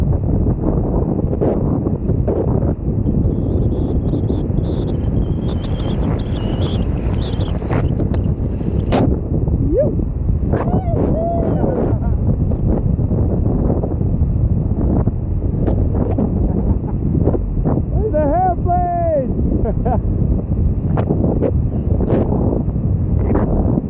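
Strong wind roaring steadily across the microphone while skating fast downhill on a road in Cape Town, with brief rustles and a whoop-like call partway through.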